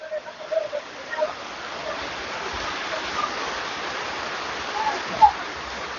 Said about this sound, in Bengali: অসাধারণ বৃষ্টি আজ কিন্তু বৃষ্টি লাগাল পাইছে।